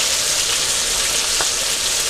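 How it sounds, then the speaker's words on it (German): Meatballs fry in foil with margarine over full heat, a dense, loud, continuous sizzle and crackle that holds steady from start to finish without any talking. "So, 2 Minuten auf voller Hitze schön anbraten."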